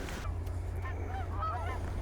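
Geese honk repeatedly during a goose hunt in an Alberta field, a scattered flock of calls at moderate distance over a steady low rumble.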